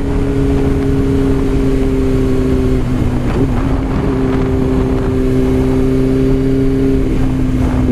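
A motorcycle ridden on a winding mountain road, the NC-80 known as the Devil's Whip, giving a loud steady engine drone with pitch shifts and heavy wind rush throughout.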